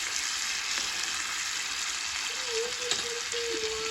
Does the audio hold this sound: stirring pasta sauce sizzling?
yes